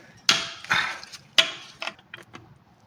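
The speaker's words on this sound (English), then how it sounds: "All right, so I'm gonna take off the oil pickup." Sharp metallic clicks and clanks while removing the oil pickup from a classic Honda engine, a few distinct bursts of ratcheting with quieter taps between, close up and without talking.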